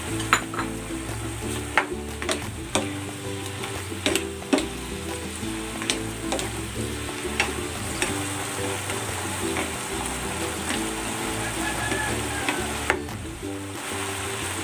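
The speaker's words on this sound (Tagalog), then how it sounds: "Ilalagay ko na dito yung patatas at carrots." Potatoes and carrots tumble into a hot frying pan for a creamy chicken dish and get stirred, a steady loud sizzle under repeated sharp scrapes and clacks of the utensil against the pan, no voices.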